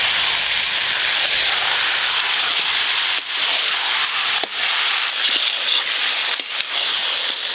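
Washed, cut pieces of country chicken go into a pan of ground spice paste and sizzle. A loud, steady hiss runs throughout, with a few brief sputters and pops.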